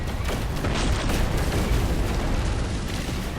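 Rocket explosion in No Man's Sky space combat, a loud, sustained roaring blast of broadband noise that fills the whole moment without a break.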